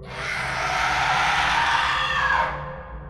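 A woman's long, loud scream rings out for about two and a half seconds, a horror-story sound effect with a hollow backdrop, then stops abruptly.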